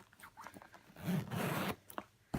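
A Kate Spade Harmony tote bag is zipped close by, a quick rasping zipper pull with a short continuous run and a few small clicks and handling sounds around it.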